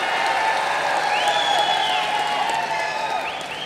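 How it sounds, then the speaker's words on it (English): A large audience at the closing ceremony of the International Film Festival of India in Goa claps and cheers for Chiranjeevi, a steady loud roar of applause with whoops and a few whistles throughout. "Keep those claps going for the megastar"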